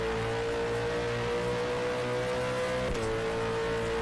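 A Supercar engine in the rFactor 2 racing sim drones at steady high revs near Sydney Motorsport Park, one brief shift dip breaking the sustained, loud whine.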